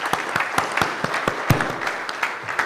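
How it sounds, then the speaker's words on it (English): Applause rings out at a medical conference, Maha Criticon 2025 in Nagpur, honouring its featured stars, a steady run of hand claps from a modest crowd with occasional louder individual claps. "I request a big round of applause for dynamic stars of Maha Criticon."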